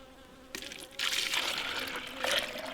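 Honeybees buzz densely around a hive during autumn syrup feeding in the dearth period, a busy swarming drone that swells louder after the first second and stays steady, with a trickle of poured syrup near the end.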